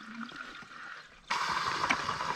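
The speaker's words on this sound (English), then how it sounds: "Open the water valves." Irrigation water valves opened on a farm system: a faint hiss gives way suddenly to a loud, steady rush of flowing water that holds to the end.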